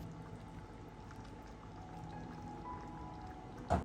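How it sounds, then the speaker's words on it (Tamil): A cup of water is poured into a pan of chicken curry, a faint, steady trickle that continues throughout and ends with a brief knock. "இவ்விடத்துல நான் 1 கப் தண்ணி சேர்த்திக்கிறேன்"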